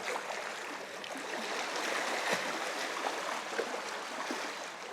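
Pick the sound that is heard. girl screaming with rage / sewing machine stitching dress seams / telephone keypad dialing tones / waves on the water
waves on the water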